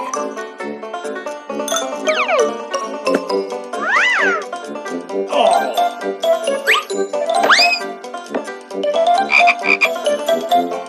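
A toad croaking in loud, repeated calls with bending, sweeping pitch, some stretched and almost whining, broken by short gaps, with no talking.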